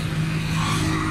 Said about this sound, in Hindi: सलेंसर का साउंड भी माशाल्लाह ज़बरदस्त है, गाड़ी कमाल है